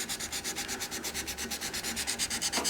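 The horn tip of a longbow is rubbed to remove small white scratches, making a fast rhythmic back-and-forth sanding rasp, close and steady.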